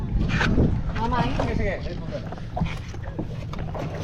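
A passenger boat moves across floodwater between Masantol and Macabebe, with wind buffeting the microphone, while people talk loudly nearby throughout.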